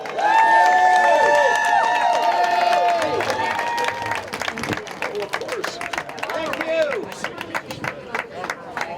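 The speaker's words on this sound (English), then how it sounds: "Can I get another big round of applause for Jim Walsh?" Cheers and clapping rise from a crowd at an outdoor "Protect our Children" rally in Olympia, loud at first, then thinning into scattered claps, whoops and murmuring voices.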